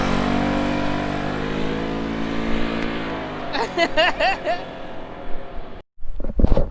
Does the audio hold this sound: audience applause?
no